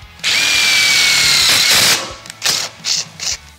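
Power drill spinning up to tap holes for self-tapping screws in a DIY shop boom arm build, one long whining run followed by three short trigger bursts, loud and close.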